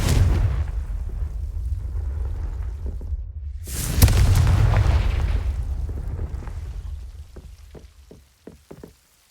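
A Confringo fire spell explodes in the video game Hogwarts Legacy with a sudden booming blast over low rumbling game ambience, followed by a few sharp knocking ticks as it fades.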